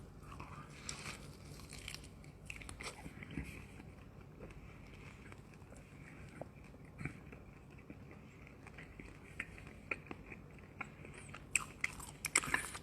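Crispy fried anchovies (ikan bilis) are bitten and chewed close to the mic, giving faint, irregular crunches over a quiet background. A cluster of sharper crunches comes toward the end.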